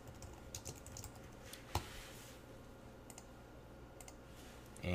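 Steady keyboard typing on a computer keyboard, entering three equal signs in a row, with soft close clicks under quiet room tone and a slightly louder knock near the end.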